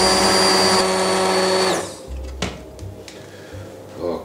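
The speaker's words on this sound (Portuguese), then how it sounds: "Vamos passar aqui este refogado com a varinha." An immersion hand blender pureeing refogado for cod rice (arroz de bacalhau), a loud steady motor whir that cuts off after under two seconds, followed by quieter clatter and handling noises.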